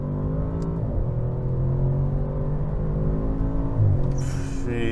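A 2024 Audi S8 sedan with a V8 engine pulling hard under acceleration, a deep, loud, sustained engine drone heard from inside with quick pitch drops at gear shifts, no talking.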